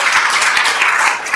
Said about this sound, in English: so everybody cheer for AARP who helped get this act passed